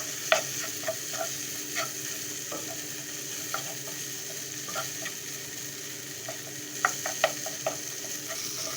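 Sardines sizzle steadily in a frying pan for laal saag, a continuous close frying hiss with scattered pops and occasional scrapes of a utensil stirring.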